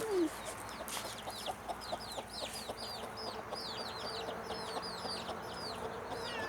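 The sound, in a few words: chickens clucking in a chicken coop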